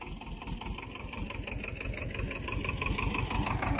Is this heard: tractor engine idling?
yes